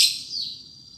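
A white-rumped shama, a caged bird hung up for the first time, gives a short bright chirp that trails off quickly, heard close and alone.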